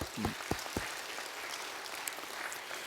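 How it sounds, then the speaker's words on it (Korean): A church congregation claps for the Hallelujah choir, a dense, even applause that holds steady, with a few louder thumps near the start. "우리 할렐루야 찬양대 우리 박수 한번 하겠습니다"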